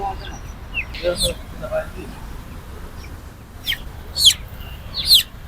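Chickens at a poultry market give scattered sharp clucks and squawks, several short calls spread across the clip over a faint background murmur.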